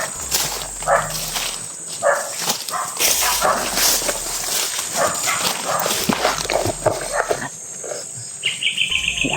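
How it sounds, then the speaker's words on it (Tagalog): A dog barks in short bursts several times amid outdoor commotion and footsteps, with shrill chirps and a steady high tone in the background. "May aso, Brad."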